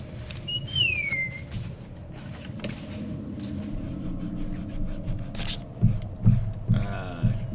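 A short, clear whistle signal sweeps downward once near the start, then gives way to a steady low rumble of background noise with a few faint knocks and thuds.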